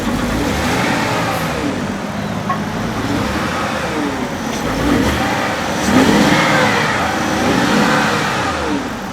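A BMW 750iL engine idles roughly and is revved several times, swelling and falling in loud surges close by.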